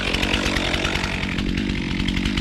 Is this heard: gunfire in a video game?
no